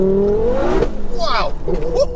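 A 689 bhp front-wheel-drive Ford Focus RS on wet roads, its engine note rising hard in second gear as the revs climb, heard from inside the car with excited voices over it.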